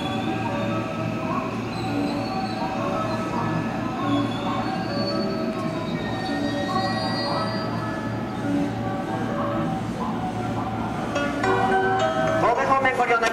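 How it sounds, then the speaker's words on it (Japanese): A JR commuter train pulls into the platform at Amagasaki station during the evening rush, wheels rumbling and squealing steadily over the rails nearby, with platform announcements carrying over the noise. "電車到着します。"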